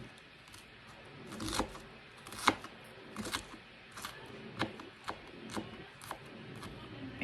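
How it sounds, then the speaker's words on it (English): A knife chops vegetable strips into tiny, almost minced pieces on a cutting board for chunky guacamole, giving close, irregular taps and thuds spread over several seconds. "chop them again, so that my strips turn into nice little tiny pieces, almost minced"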